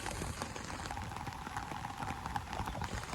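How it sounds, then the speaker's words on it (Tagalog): Light first May rain falls steadily outdoors, a soft continuous patter of drops on nearby surfaces with no voices. "Unang ulan niya ng Mayo."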